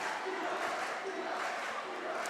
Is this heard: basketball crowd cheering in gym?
yes